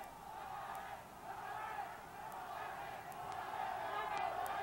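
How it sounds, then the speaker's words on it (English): Boxing arena crowd at the Marco Antonio Barrera vs Noe Santillana bout, a steady roar of cheering that swells slightly toward the end, with a few sharp knocks or shouts cutting through. "And the crowd starting to cheer for their favorites right now."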